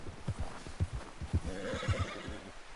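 A horse in the video game Red Dead Redemption 2 whinnies loudly and close, with a rhythmic clip-clop of hooves running underneath.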